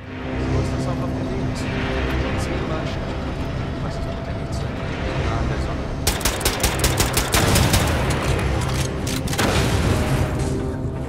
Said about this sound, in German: So, die Maschine ist explodiert